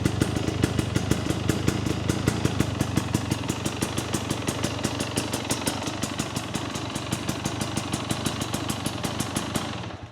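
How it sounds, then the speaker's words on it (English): A 2024 Husqvarna TE250 dirt bike's single-cylinder engine with a new FMF Turbine Core 2.1 exhaust runs close by in a garage with a rapid, even chugging pulse, holding a steady idle throughout without big revs. "New exhaust works."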